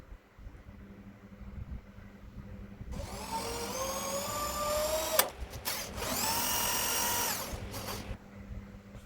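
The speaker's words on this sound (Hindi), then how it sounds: "तो इसमें हम होल्स ड्रिल करते हैं अब।" An electric drill bores holes into a metal plate during a build of a metal-cutting jigsaw table, with two loud sustained whining bursts that rise in pitch, separated by a brief pause, above a low workshop hum.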